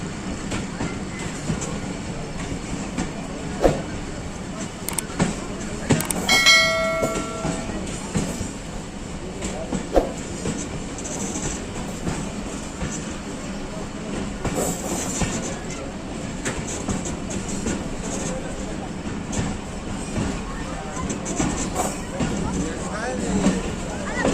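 The Kohat Express pulls into Kohat Cantt railway station in Pakistan with a steady rumble and clattering wheels, a sharp squeal partway through, and a crowd chattering on the platform throughout.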